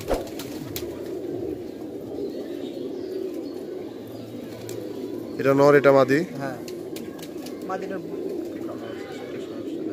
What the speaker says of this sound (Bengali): খুব সুন্দর কবুতর এগুলো